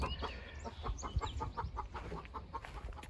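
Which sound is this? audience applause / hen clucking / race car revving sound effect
hen clucking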